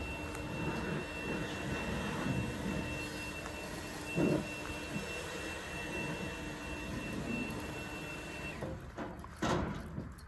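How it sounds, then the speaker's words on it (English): Compressed air blows dust off a combine harvester engine during an Idaho wheat harvest, a continuous moderate hiss with a few brief louder bursts and some clattering toward the end, and no voices. "Now he's just blowing off the engine."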